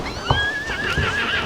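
A horse in the video game Star Stable Online, at its western festival, gives a loud, close whinny with a long wavering pitch over a steady background of game ambience.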